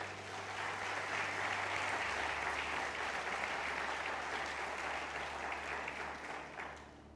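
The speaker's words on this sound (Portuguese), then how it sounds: "Você pode aplaudir o Senhor?" Congregation applauding during a Portuguese-language family church service, a dense, steady wash of clapping from a large room that holds for several seconds before tapering off.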